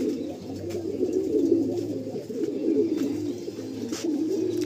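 Chocolate dama pigeons cooing in a loft, a continuous low murmuring coo from several birds close by, with occasional faint chirps over it.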